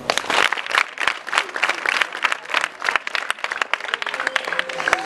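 Audience applause welcoming visiting members of a charity association at a school gathering, steady dense clapping from a crowd throughout, fairly close and loud.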